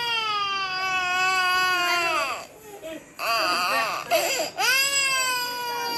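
A small child cries in drawn-out, wavering wails, loud and close, breaking off briefly with gasping sobs before resuming.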